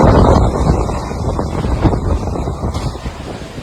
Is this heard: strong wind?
yes